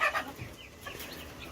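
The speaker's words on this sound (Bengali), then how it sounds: "এই যে আমাদের ছোট্ট কিউট মুরগির বাচ্চাগুলো, ওদেরকে এই ঘরে নিয়ে আনছে।" Tiny three-day-old chicks on a small home farm chirp and cheep in a brief, close flurry of high peeping with soft clucking.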